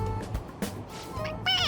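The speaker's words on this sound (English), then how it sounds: "It meows when you press on its head." A stuffed toy cat from the Persona 5 Royal video game meows when pressed, producing a short, bright mewing cry after a brief stretch of game sounds and background music.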